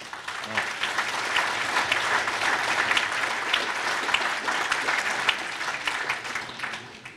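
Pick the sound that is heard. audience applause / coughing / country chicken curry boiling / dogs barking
audience applause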